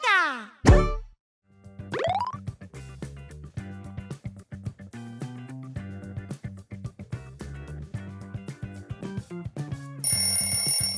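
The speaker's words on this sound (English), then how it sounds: "That's the sound of Toca Boca." Toca Boca audio logo jingle: a sliding whistle-like sweep and a plop, then a bouncy, plinking melody of bell-like tones and short bumps, ending in a bright shimmering chime, with no talking.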